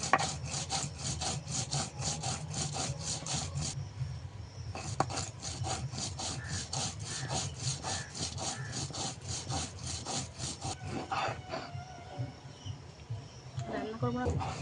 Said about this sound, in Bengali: এখানে জিরে আর গোলমরিচ একসঙ্গে বেটে নেব।